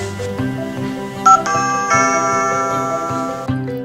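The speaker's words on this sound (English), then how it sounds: "you will be able to scroll through your zone list and can select a zone and then change the chime" A home alarm system plays the door chime set for the back door zone, a clear multi-note electronic melody of ringing tones that sustain and overlap, heard alone and near.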